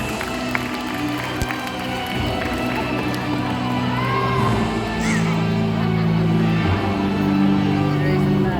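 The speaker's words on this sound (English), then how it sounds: "A round of applause for a flag racing bird" An audience applauds and cheers in the amphitheater of Cebu Ocean Park at the start of a bird show. The crowd noise is steady and broad throughout, mixed with a background hum and tonal sounds.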